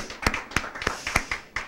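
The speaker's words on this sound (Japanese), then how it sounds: "まずはこう拍手を送らさせていただきたいと思います。" Hands clapping at a prefectural governor's regular press conference, a short run of about six sharp, evenly spaced claps close to the microphone with no talk.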